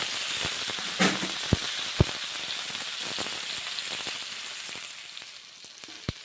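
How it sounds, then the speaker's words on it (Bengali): Aubergine slices fry in oil in a wok with a constant close hiss and crackle, punctuated by sharp pops and light taps that fade slightly toward the end. "2 পিঠ ভালো করে বেগুনগুলোকে ভেজে নিয়েছি।"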